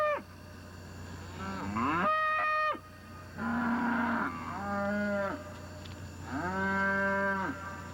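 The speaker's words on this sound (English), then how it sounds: "the cattle belonging to the Rose Allen family near Ponchatoula are restless" Restless cattle of a family herd near Ponchatoula moo loudly and repeatedly, several long drawn-out calls close by, overlapping at times with short pauses between them.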